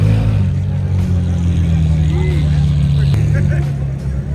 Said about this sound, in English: the homie Sammy pulled up in the Aventador and the 720S at the same time